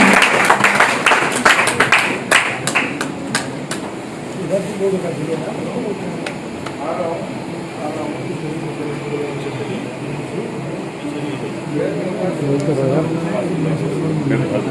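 Audience applause at an honouring ceremony held by an Agarwal community association in Uttar Pradesh: a burst of dense clapping over the first few seconds, fading into a murmur of crowd noise and voices.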